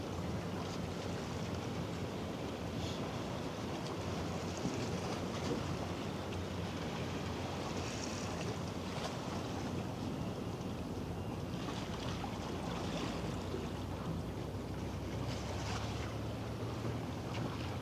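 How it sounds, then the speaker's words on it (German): Waves from a passing vessel slosh against a floating pontoon on the Elbe, a steady, dense wash of water noise mixed with wind buffeting the microphone, continuous and close throughout. "Irgendwer hat eine Welle gemacht."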